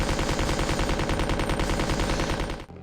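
Rapid automatic gunfire blasts at a giant moth in the 1998 Resident Evil 2 game, a dense, loud, continuous burst of shots that cuts off near the end.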